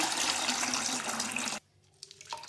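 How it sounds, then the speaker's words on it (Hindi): Water pours steadily into a tamarind sherbet mixture in a container for about a second and a half, then stops abruptly, followed by a few faint drips and small liquid sounds. "अब हम इसमें पानी डाल देंगे"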